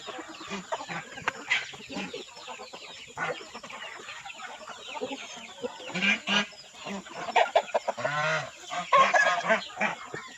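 Rhode Island chickens clucking and squawking near their feeding area, a loose cluster of close, irregular clucks and cackles rising and falling, louder bursts toward the end, with no talking.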